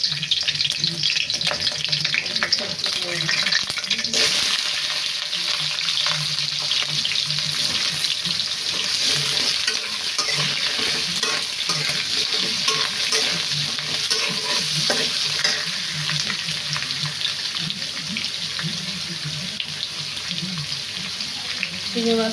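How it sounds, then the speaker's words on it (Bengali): Nigella and fenugreek seeds tempered in hot oil for a shrimp curry, a steady loud sizzle with scraping stirs running throughout, no talking. "ঝোলটাতে আমি কালি জিরা মেথি সম্বার দিলাম, আর সাথে একটু কাঁচামরিচ সম্বার দেবো।"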